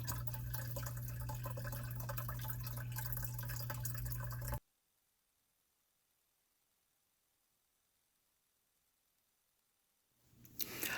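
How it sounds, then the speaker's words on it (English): Water from a 30-gallon fish tank runs down a DIY greenhouse waterfall decorated with plastic aquarium plants, a steady close splashing rush for several seconds before it cuts to silence and briefly returns at the end. "I like to present you my DIY waterfalls"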